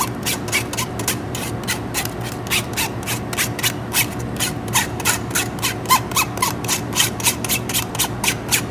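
A metal spoon scrapes pickerel fillets across a pan during cooking, in a fast, steady run of rhythmic scratchy strokes over a sizzling background.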